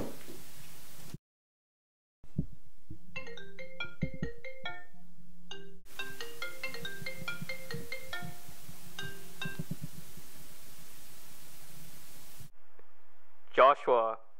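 A phone's melodic ringtone repeats for about ten seconds and goes unanswered, with low voices underneath during an indoor short-film scene.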